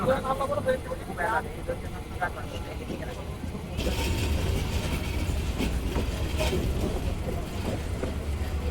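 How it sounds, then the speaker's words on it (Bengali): The Dhaka-bound Mohanagar Express, a metre-gauge train in Bangladesh, rolls along with a continuous rumbling roar and rail clatter that grows louder partway through, while a voice talks over it. "বিশাল কাজ নিয়ে এগিয়ে যাচ্ছে ঢাকামুখী মহানগর এক্সপ্রেস"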